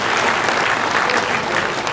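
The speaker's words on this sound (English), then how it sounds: "clap for yourself, and clap for the chairman" Steady, dense applause from a crowd at a political stakeholders meeting in Calabar, Nigeria, sustained and fairly loud throughout without a break.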